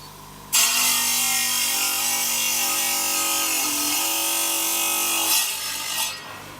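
A tile cutter's loud, steady grinding whine cutting slate runs for several seconds, then eases and trails off near the end.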